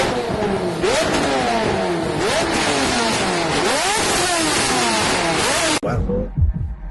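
Lamborghini Revuelto engine revs hard and loud in repeated rising and falling sweeps, ending abruptly with a brief quieter tail.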